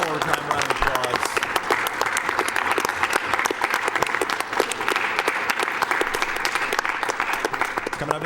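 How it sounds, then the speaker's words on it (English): A live audience at the Summer Games Done Quick 2014 speedrun marathon claps loudly and continuously throughout, a dense, even wash of applause with no break. "one more time round of applause"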